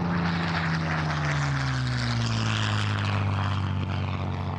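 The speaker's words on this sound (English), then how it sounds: "You're flying my aeroplane." A Supermarine Spitfire in flight, its piston engine and propeller giving a loud, steady, rich drone that slowly drops a little in pitch, with no voices over it.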